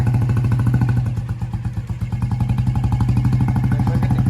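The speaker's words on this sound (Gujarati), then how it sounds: "હાલો તો રાકેશભાઈ જઈ રહ્યા છે બુલેટ દેવા બુલેટની વિદાય ચાલુ છે અત્યારે" A Royal Enfield Bullet motorcycle pulls away with its steady, loud thumping single-cylinder beat, briefly easing off before the rhythmic thump resumes strongly, with no talk over it.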